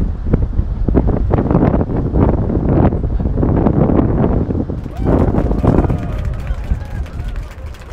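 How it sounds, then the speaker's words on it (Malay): Strong wind buffets the microphone at Towada Lake in Japan, loud and continuous, with rumbling gusts while a person talks through it. "Walaupun kuat angin."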